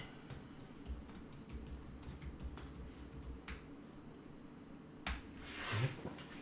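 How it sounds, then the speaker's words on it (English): Faint, soft key taps on a computer keyboard entering a passphrase, spaced irregularly over low background hum, ending in a couple of slightly louder clicks. "Okay, let me type my passphrase."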